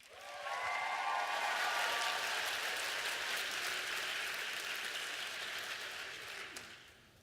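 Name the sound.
audience applause after a presentation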